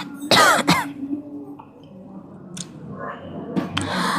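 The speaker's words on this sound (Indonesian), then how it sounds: "Batuk." Two sharp coughs burst out close together near the start, followed by quieter throat sounds and soft breathy noises.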